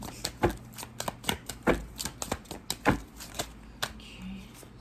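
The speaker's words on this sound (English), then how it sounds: "Let me shuffle again." Tarot cards shuffled by hand in a pick-a-card reading, a run of quick crisp riffling snaps and slaps, close and fairly loud, with brief pauses between bursts.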